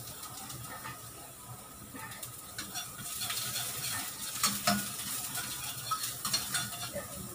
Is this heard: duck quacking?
no